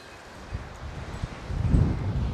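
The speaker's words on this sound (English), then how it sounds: "it's windy out here" Gusty wind blowing outdoors and buffeting a handheld microphone, rising to a louder rumbling gust near the end with rustling texture, and no talk.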